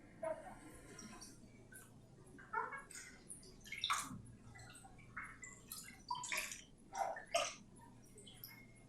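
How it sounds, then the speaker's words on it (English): Indigo-dyed fabric is rinsed in water, with irregular splashes, drips and sloshing bursts close by, quiet between movements. "I'm going to go ahead and rinse this one."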